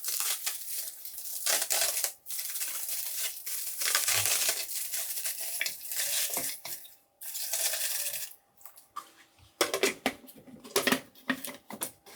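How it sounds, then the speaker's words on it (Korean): Roasted laver (gim) sheets being torn and crumpled by hand into a blender, a dense, continuous papery crackling and crinkling with brief pauses and sharper rustles toward the end, close and fairly loud. "블렌더에 잘 구워진 김을 가볍게 찢어서 넣어줍니다"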